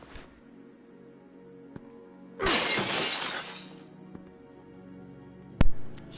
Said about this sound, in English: Step 1, break glass.